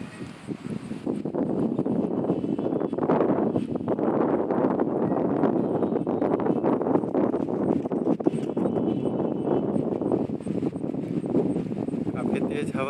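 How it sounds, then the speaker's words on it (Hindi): Strong, steady wind roars outdoors during a thunderstorm with lightning in Jharkhand, a dense broadband rush with some microphone buffeting that holds loud and unbroken throughout. "काफ़ी तेज हवा चल रही है।"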